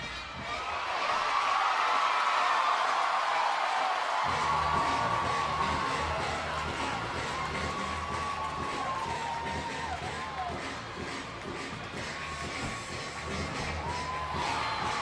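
A crowd cheers and whoops at an NCAA gymnastics meet in Tuscaloosa, an eruption for Alabama that swells loudly, then settles into sustained arena noise and applause.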